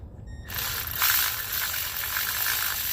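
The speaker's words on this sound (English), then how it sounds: "just use your little electric ratchet if you got one" An electric ratchet drives a bolt into a cooling fan pulley bracket. After a short quiet start, it whirs and clicks in one steady, close run that lasts to the end.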